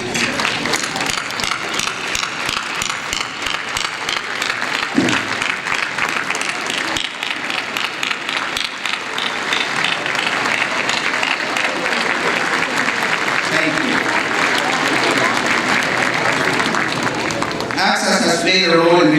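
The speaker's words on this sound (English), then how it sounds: "please stand and join me in giving them a huge round of applause" A large audience at an annual community event bursts into sustained, loud applause that continues steadily throughout, with scattered voices in the crowd.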